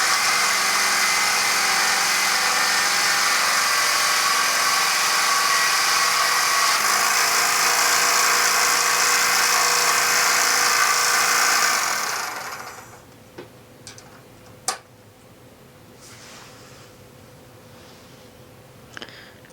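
A $20 bobbin winder whirs steadily while winding thread onto a bobbin, a loud, constant motor drone that cuts off after about twelve seconds, leaving quiet clicks and small handling sounds.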